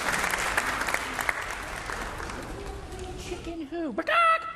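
A crowd claps in dense, steady applause that fades out, followed by a voice imitating a clucking chicken.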